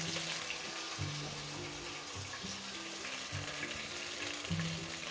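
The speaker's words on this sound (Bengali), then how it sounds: "এটা এখন আমি সুন্দর করে কষিয়ে নিচ্ছি।" Ginger, cumin, coriander and green chili pastes sautéing in a pan for paneer polao, a continuous moderate sizzle with rhythmic low scraping stirs repeating about every second.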